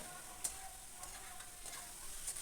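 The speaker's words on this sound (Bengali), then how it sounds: "আর কাবলি ছোলাটা যেহেতু আমার সেদ্ধই করা আছে এবার এটাকে আমি ভালো করে একটু কষিয়ে নিচ্ছি খানিক্ষণ" Boiled kabuli chickpeas and potato are stirred and fried in a pan, a faint, steady sizzle with a few soft taps of the spoon.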